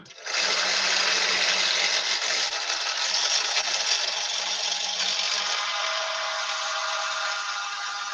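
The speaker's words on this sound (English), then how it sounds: "So I'm just going to drill right through this blank, ready to receive the tube." A drill bores steadily through a tough wooden pen blank for a dart made from a pen kit, its worn bit giving a loud, continuous whining grind with no talk.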